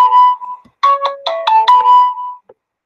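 A phone's melodic electronic ringtone plays close and loud, a sustained tone followed by a rapid run of pitched beeps that ends on a long held note.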